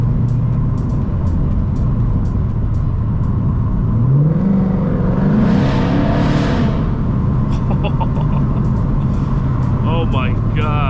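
A Ford Mustang GT engine pulls through the gears on a wet road, with a rising rev and a brief surge in the middle that settles into a steady interior drone, and road noise runs throughout.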